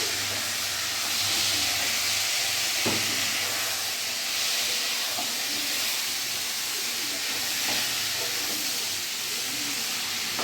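Spices with Kashmiri chilli powder sizzling in a pan over medium gas while being stirred, a steady close hiss with faint scraping underneath.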